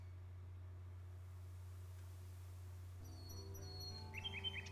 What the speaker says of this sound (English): That bird's pretty loud.